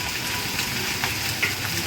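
Crushed garlic and ginger fry in hot oil for chivda, giving a steady, close, continuous sizzle that fills the whole moment with small crackles and no talk.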